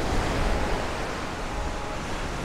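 Ocean waves break along the Portuguese coast in a steady, dense wash of surf with no distinct individual crashes, loud and continuous throughout.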